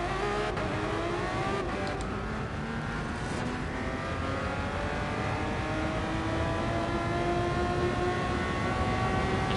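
A 1967 Ferrari 330 P1 racing engine in a PS4 racing game drones steadily for the whole stretch, its harmonics slowly climbing as it holds a high, even rev with no breaks.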